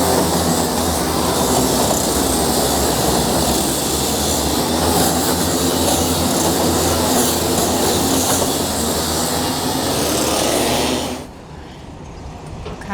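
Racing karts roar past on an outdoor track, a loud continuous engine drone with rattling and rumble that holds steady, then drops away abruptly near the end, leaving quieter background.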